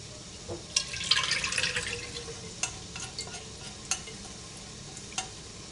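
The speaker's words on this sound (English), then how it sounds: "I'm going to go ahead and pour this in here now." Liquid is poured into a pot while a comfrey salve is being made: soft trickling and stirring with a few sharp clinks and taps, close and fairly quiet, with no talking.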